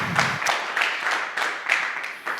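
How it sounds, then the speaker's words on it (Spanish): Church congregation at a Sunday service applauding, rhythmic unison clapping with regular beats about every half second, moderately close and fairly bright, with no talking. "Aleluya, aplauda la gloria del Señor"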